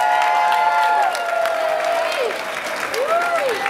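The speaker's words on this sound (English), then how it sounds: "y'all give them a huge round of applause" Audience applause at a school Christmas show, a dense wash of clapping and cheering that stays steady throughout, with tonal whistles or squeals sweeping over it and voices mixed into the crowd.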